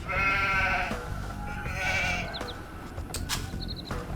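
Sheep bleat in Age of Empires II, several wavering calls close together near the start and middle, joined by short in-game chimes and clicks toward the end.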